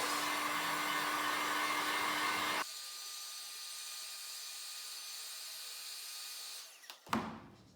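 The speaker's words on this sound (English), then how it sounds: "So we're going to use a heat gun." A heat gun heating a shoe toe-puff stiffener blows with a steady whirring roar, switches to a lower, quieter hiss, then cuts off with a short clatter at the end.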